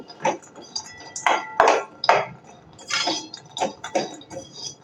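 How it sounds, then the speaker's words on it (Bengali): Fried khasta pieces are stirred into sugar syrup in a pan, giving irregular clanks and scrapes of a utensil against the metal with soft wet sizzling between strikes, close up and without voices. "এখন আমি কটকটিগুলো চিনির মধ্যে দিয়ে দেব দিয়ে এইভাবে নাড়তে থাকব"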